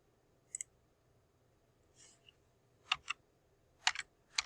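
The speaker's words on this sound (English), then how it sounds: "I can now either type in CSK" Keys on a computer keyboard are struck in short bursts, a few quick crisp clicks in small clusters separated by quiet pauses, close and fairly soft.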